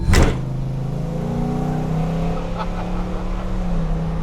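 A Ford F100 pickup with a big Godzilla V8 swap idles with a steady deep rumble, then revs slightly as its low engine tone rises and settles, close and fairly loud.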